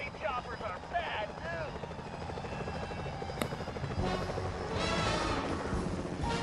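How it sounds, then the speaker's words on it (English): Security helicopters in the video game Sly Cooper: Thieves in Time churn with a steady rotor whir beneath a man's speech, with a brief sharp click midway and the rotor noise swelling slightly toward the end. "Careful, Sly. Those security choppers are bad"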